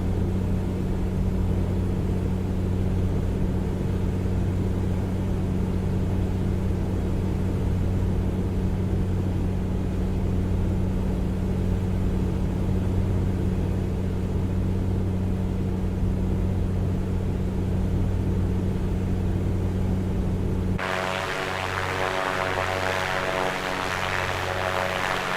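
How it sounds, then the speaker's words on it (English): Steady, continuous propeller engine drone of an A2A Piper Comanche 250 in Microsoft Flight Simulator 2024 on approach into Tucson, loud and even throughout, with a shift in tone in the last few seconds. "Piper Comanche making his way into Tucson."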